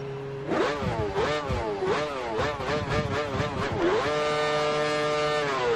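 An F1 race car in the F1 2013 video game accelerates hard out of a hairpin toward 297 kph, its engine note climbing through several rapid upshifts before settling into a steady high-pitched scream, loud and close throughout.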